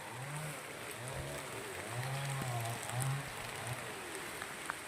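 Rain falls steadily in a rural rubber plantation area, a faint, even hiss of drops on leaves and ground with a few soft distant tonal sounds mixed in.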